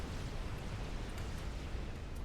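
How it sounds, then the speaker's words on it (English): A nuke detonation in StarCraft II, a broad sustained rumbling roar that fills the whole stretch at steady loudness, with no voices over it. "This big explosion."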